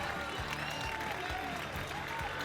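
A local crowd at an X Games BMX event in Newport cheers and applauds a rider from nearby East Providence, a dense, steady roar of clapping and shouting that fills the whole stretch with faint voices underneath.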